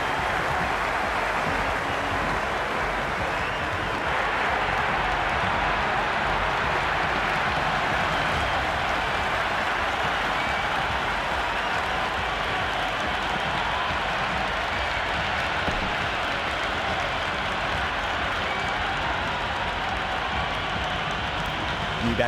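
Cricket crowd in the video game Cricket 26 at a T20 World Cup Super 8 match, New Zealand against England. The stadium roar and applause run as a continuous, even wash of noise throughout.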